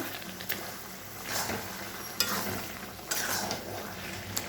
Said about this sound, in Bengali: এবার ভালো করে নাড়বো নাড়তে নাড়তে একদম শুকিয়ে ফেলবো